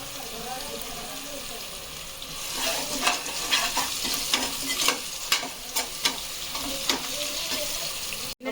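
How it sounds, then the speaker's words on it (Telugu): Chicken pieces sizzle and fry in hot oil with onions for biryani while being stirred, with a steady background crackle broken by repeated scraping stirs in the second half. "చికెన్ ఆయిల్లో బాగా ఫ్రై అయితే"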